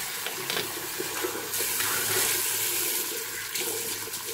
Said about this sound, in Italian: Adesso sciacquiamo il viso.